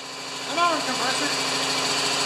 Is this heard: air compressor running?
yes